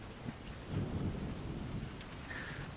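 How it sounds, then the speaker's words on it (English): A thunderstorm in mountain foothills, with low thunder rumbling beneath steady rain that swells into a heavier roll midway and keeps hissing on, fairly faint and with no voices. "rumble and crack of repeated lightning bolt strikes echoes in your wake"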